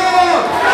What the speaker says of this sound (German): Und da sind alle am Jubeln.